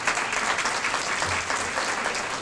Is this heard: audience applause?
yes